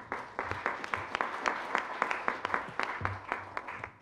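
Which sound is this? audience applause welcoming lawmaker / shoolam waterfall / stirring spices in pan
audience applause welcoming lawmaker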